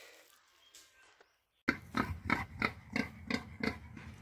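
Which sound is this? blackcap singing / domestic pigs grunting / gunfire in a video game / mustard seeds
domestic pigs grunting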